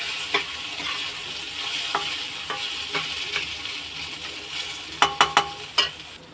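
Dal, ginger and rice fry in a pan with a steady background sizzle, while a spoon scrapes and stirs in periodic strokes that grow sharper and louder near the end.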